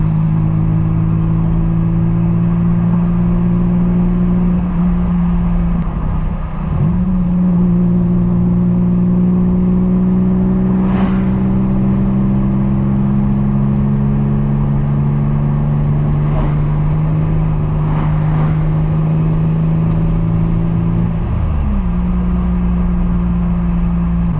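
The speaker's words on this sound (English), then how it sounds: "It's almost like the car quiets down the higher you get in RPMs, which is so weird." A turbocharged Nissan Z's engine drones steadily while cruising, its pitch rising and easing through gear and throttle changes, a continuous loud in-cabin hum over road noise.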